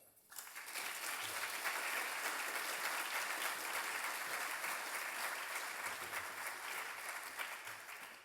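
An audience applauds in welcome for the Verizon CEO taking the stage, a dense, steady wash of clapping that swells in quickly and holds loud for several seconds without voices.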